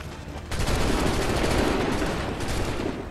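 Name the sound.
musket gunfire by soldiers in video game Assassin's Creed 3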